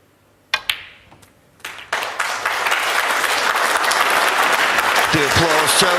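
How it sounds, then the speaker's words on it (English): Audience applause at a snooker match, starting with a few isolated claps and ball clicks, then swelling into sustained full clapping from the crowd, with a commentator speaking over it near the end. "the applause tells you."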